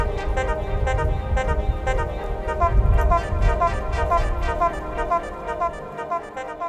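Train horns play sustained, harmonic chords alongside brass outdoors at Lake Eola, in a piece for seven horns, 28 brass players and two conductors. Loud, layered tones pulse and shift over a low rumble with no speech.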